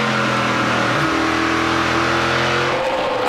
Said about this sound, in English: That's awesome to hear DJ roll onto the throttle